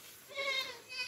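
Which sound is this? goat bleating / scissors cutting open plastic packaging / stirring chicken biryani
goat bleating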